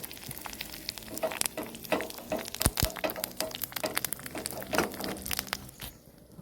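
Curry leaves and cut dried red chillies fry with popped mustard seeds in a pan for a Kerala mango curry tempering. Crackling sizzle and sharp pops come close and irregular, with scraping stirs in between.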